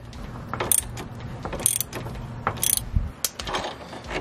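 Ratchet wrench clicking in short bursts while loosening a rusty sway bar link on a Jeep WJ Grand Cherokee, with an occasional metallic knock, close and moderately loud.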